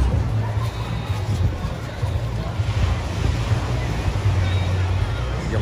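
Waves washing in an artificial beach pool at a resort water park, a steady surf-like roar with gusty wind noise on the microphone and faint people talking underneath.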